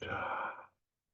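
A single deep exhale during a guided heart-opening meditation, a soft, breathy sigh lasting about three quarters of a second before fading into silence.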